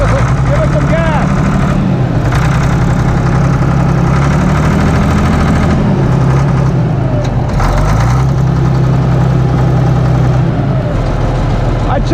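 A Case 1150 dozer's diesel engine runs loud and close, a heavy, rumbling idle that rises and falls as the throttle is worked, with people talking over the noise.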